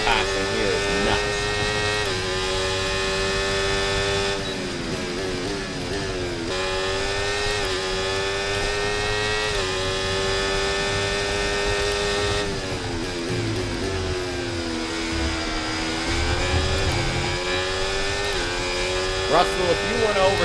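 F1 24 video game race cars scream past in a sustained, rising and falling engine whine with gear-shift drops, loud and continuous while someone talks over it.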